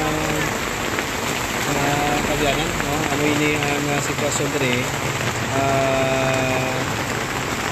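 Heavy rain pours steadily onto surfaces outdoors at Jaro Plaza during a flood, a dense continuous hiss throughout. Someone speaks over the downpour.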